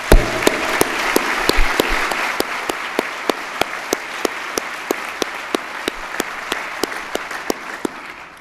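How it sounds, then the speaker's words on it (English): A civic audience at a State of the City address breaks into loud, sustained applause, with sharp claps standing out rhythmically from the wash of hands throughout. "So let's give him a round of applause right now."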